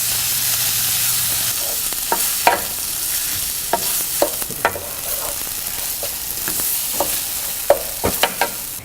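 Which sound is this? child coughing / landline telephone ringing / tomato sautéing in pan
tomato sautéing in pan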